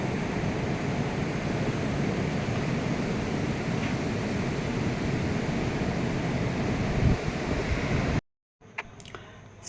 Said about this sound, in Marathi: समुद्राची गाज वरपर्यंत मोठ्याने ऐकू येत होती